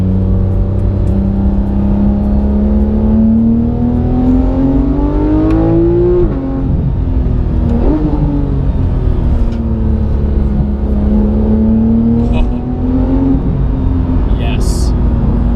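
Porsche 991 GT3 with a new Sharkwerks exhaust accelerating, a loud throaty engine note climbing through the revs, easing off and building again, heard close for the whole stretch.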